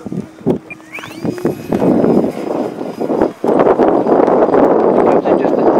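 A small electric motor on an FMS 1700mm F7F Tigercat RC model airplane whines up to a high pitch and holds steady during takeoff, while gusty rushing noise and occasional thumps fill the foreground.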